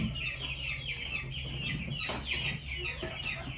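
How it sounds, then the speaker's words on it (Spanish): A broody hen clucks while pecking quickly at food, with soft, close, repeated clucks over a low background hum and a sharper peck-like noise midway. "Miren con qué velocidad come esa gallinita"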